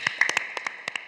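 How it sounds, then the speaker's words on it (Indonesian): A few people clap sparsely at a church talk show, about ten distinct claps in an irregular rhythm, close and crisp with no talk over them. "tepuk tangan dulu"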